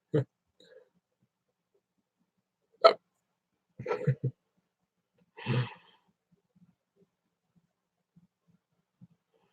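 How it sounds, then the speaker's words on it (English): Hiccups from a man during a New Year's Eve hockey game livestream: four sharp, separate bursts spread over several seconds, each brief and fairly loud, with near silence between them. "my hiccups will go away just as the period ends"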